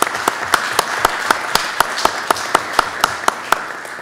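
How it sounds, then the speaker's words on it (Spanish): Steady audience applause at a municipal citizen security committee meeting, with a clear, regular clapping rhythm and sharp individual claps standing out close by over the continuous patter of the room. "Un aplauso, por favor, para el señor Lindo Costa"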